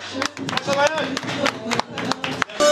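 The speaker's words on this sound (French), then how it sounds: "j'aimerais qu'on applaudisse pour les 50 madame" Diners in an African street-food restaurant clap in sharp, scattered bursts, the claps mixed with loud talking and a lively room around them.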